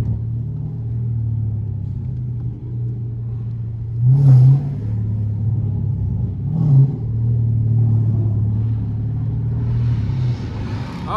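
A Dodge Hellcat's engine idles with a deep, steady rumble nearby, swelling into two short revs partway through before settling back to a low drone.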